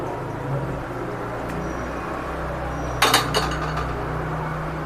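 Pickle pieces being stirred with oil in a metal pot, a soft steady background with a short burst of spoon clinks against the pot near the middle.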